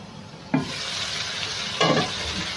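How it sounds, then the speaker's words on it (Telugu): Chicken pulao with whole spices sizzling in a pan, a close, continuous frying hiss with two sharper bursts as the contents are stirred. "ఇది మనకి ఒక టూ త్రీ మినిట్స్ అలాగా మగ్గితే సరిపోతుంది"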